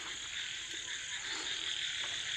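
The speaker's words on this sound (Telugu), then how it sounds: "ఈ టైం అయింది కప్పలు ఎట్లా మొత్తుకుంటున్నాయి చూసిరా" Frogs croak at night in a dense, continuous chorus that holds at an even level, with a faint insect buzz mixed in.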